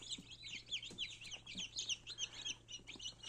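Minorca chicks peeping and chirping rapidly, a busy overlapping chorus of high calls with soft clucks, steady and close, with a low hum underneath.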